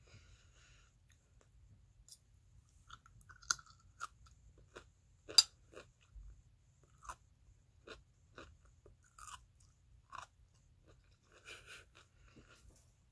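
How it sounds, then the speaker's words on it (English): Crunchy chewing of high-fiber food such as raw carrot, close and quiet, with a steady series of sharp bites and crunches spread across the clip, no talking. "Should we do one last ASMR crunch?"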